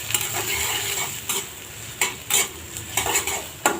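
Chopped onions sizzle and crackle steadily in a pan while a spoon scrapes and stirs through them in several sharp bursts, with no voices.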